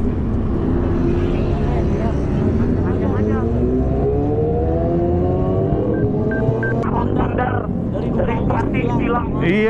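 Ducati motorcycle with a loud factory-stock exhaust, a deep throbbing engine rumble that rises in pitch as it revs, steady and close throughout, with people talking over it.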